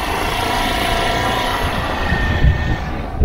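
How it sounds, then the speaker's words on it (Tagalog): A Suzuki Burgman Street 125 scooter engine runs quietly, a steady low hum and vibration blended with breezy background noise and a few soft bumps, with no speech. "Pero parang sobrang tahimik ng motor, parang sobrang nainibago ako."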